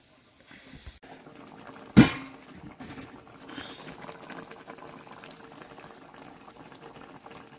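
Gumla simmering in a pot for a Gujarati dish, soft steady bubbling with a single sharp knock near the start, faint and close, no one speaking.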